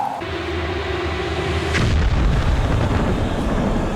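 A loud explosion in the video game Metro Last Light erupts midway, a heavy boom that rolls into sustained rumbling blasts and crackling debris, following a brief tonal hum at the start.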